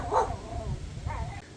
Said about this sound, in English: The dog has to interject.